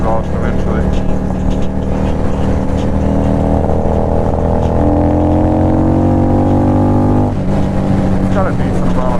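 A 650cc motorcycle engine and exhaust drone loudly and close, with a steady rumble that rises in pitch as the bike accelerates, then drops after a gear change and keeps running.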